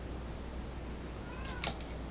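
A house cat named Sophie meows indoors, a short rising-and-falling call near the end against a quiet steady background hum.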